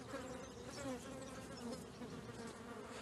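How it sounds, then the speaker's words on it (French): Honeybees, including the dark Provence bee, buzzing around a flowering almond tree in an orchard, a steady dense drone of many insects close by, faint and continuous with no talking. "Ah, ça, c'est des abeilles qui ne sont pas à toi"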